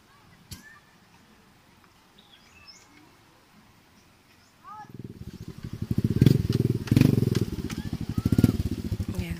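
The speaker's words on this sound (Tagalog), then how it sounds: "Nagsasakay na naman ng motor para tumawid." Faint birds chirp before a motorcycle engine starts up and chugs loudly nearby, revving unevenly as it rides onto a boat for a river crossing, with voices in the background.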